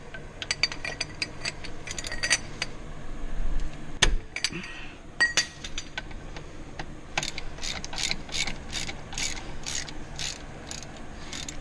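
A ratchet wrench with a 19 mm socket works on the caliper pin bolts during a brake job on a Chevy 2500 HD truck. Bursts of fast close clicking come with metallic clinks and a clunk partway through.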